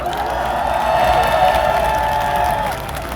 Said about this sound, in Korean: 네, 여러분 경험과 상상에게 다시 한번 큰 박수 부탁드립니다.